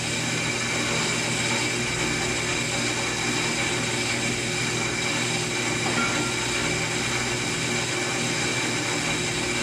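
A brake lathe cuts a vented brake rotor, giving off a constant mechanical whir and hum with a faint scraping edge, steady and close throughout with no one talking.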